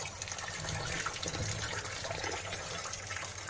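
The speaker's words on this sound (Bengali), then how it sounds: "আমগুলোকে এভাবে কষলে কষলে আমি ধুয়ে নেব।" Soaked mangoes are rubbed and rinsed by hand in water, giving a steady close sloshing and splashing wash throughout with no pause.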